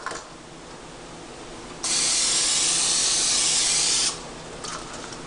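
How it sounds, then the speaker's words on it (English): A steady hiss of canola cooking spray runs for about two seconds, loud and close, between quieter stretches of room noise. "I use canola cooking spray."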